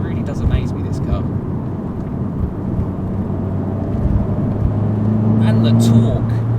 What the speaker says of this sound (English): what other car can you get without a soft limiter, for one, and it's modern, and sounds like that?